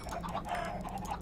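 Chickens cluck in a quick, busy cluster in the Magic Farm 2 video game, several birds overlapping in short, fairly loud bursts with no talk.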